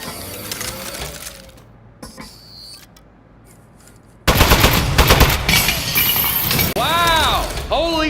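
A turret in Aperture Desk Job opens up in a sudden loud burst of rapid automatic fire with metallic clattering, mechanical whirring and rising electronic whines, after a quieter stretch of faint mechanisms and clicks.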